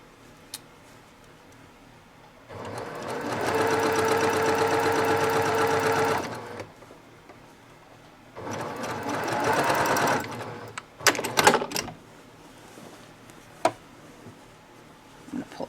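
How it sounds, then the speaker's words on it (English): A longarm quilting machine sews binding onto a quilt in two bursts of rapid, even stitching. It has a high mechanical hum and sits close and clear against a quiet room, followed by a few handling clicks and taps. "I'm going to sew directly on that line."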